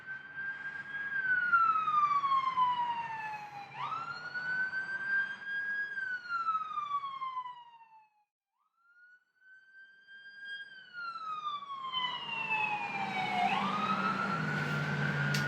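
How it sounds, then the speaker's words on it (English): An ambulance siren passing by, wailing in long rising and falling sweeps that pause briefly midway then return, loud and fairly near over faint traffic rumble, with no speech. "we waited for the ambulance"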